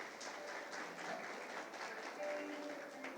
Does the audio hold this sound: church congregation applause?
yes